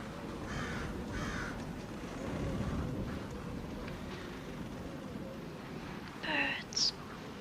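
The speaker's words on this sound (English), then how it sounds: "Birds." Crows caw outdoors, a few harsh calls rising near the end over a dull, murmuring background.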